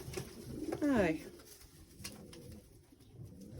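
Pigeons in a loft kept with tumblers and fantails give a brief, near coo amid soft background bird sounds, with a voice speaking nearby.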